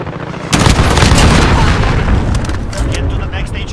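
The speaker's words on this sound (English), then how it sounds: "Allied cruise missile launched." Heavy booms and blasts from an allied cruise missile strike in Call of Duty: Modern Warfare, a loud sustained rumble of explosions with crackling gunfire mixed in throughout.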